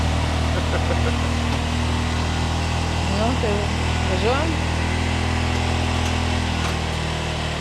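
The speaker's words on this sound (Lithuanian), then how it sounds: "apšildau variklį" A tuk-tuk engine warms up at idle, a steady low rumble with a constant hum running throughout, while people talk close by over it.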